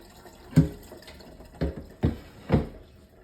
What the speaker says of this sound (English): I'll show you what the broth looks like by pouring it into a glass